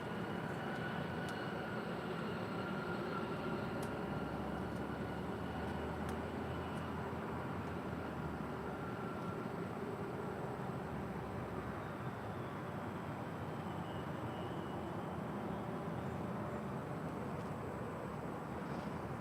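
A Virgin Atlantic A350-1000 airliner passes overhead at LAX, heard as a continuous broad jet roar that stays steady and fairly distant throughout, with no talk.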